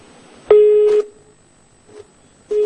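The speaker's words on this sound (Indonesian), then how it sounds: "maaf sekali sambungan telepon dengan kontributor Metro TV M. Rizky terputus" Telephone line from a news broadcast call dropping, giving steady electronic beeps: a long half-second tone, a short faint blip, then another tone starting, clear and alone with no talk.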